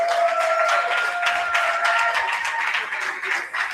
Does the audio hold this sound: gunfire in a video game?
no